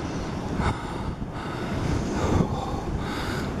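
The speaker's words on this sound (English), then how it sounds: "Can you hear the wind?" Strong wind buffets the microphone atop a ski jump tower, a steady broadband roar with gusty swells that rise and fall throughout, close and fairly loud with no talking.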